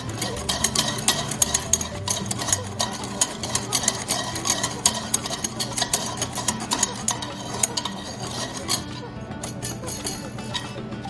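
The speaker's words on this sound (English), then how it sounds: "I'm going to pour it into the pilon and whisk it up just to make sure that it's as incorporated as it could be" A whisk briskly stirring homemade sazon seasoning in a pilon, giving rapid, steady clicking and scraping strokes close up that continue for several seconds, with a voice talking faintly underneath.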